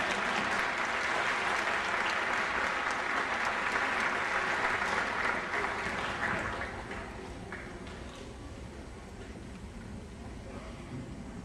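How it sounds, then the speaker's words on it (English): Dense, sustained audience applause at a Martin Luther King Jr. Day event, loud and steady for about six seconds before easing to a thinner, quieter patter. "Let's give her another round of applause."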